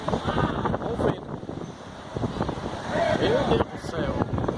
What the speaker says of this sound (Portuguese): Olha o vento aqui, mano.